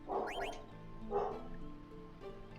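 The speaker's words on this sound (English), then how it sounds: "I think you can hear my dog barking." A small dog barks a few times indoors, two short yips followed by a single bark, heard at moderate distance with no talking.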